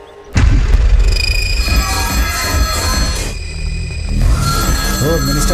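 A telephone rings in a Hindi-dubbed action film scene, its repeated bell tones sounding over a loud, booming score and other dramatic effects, with no speech.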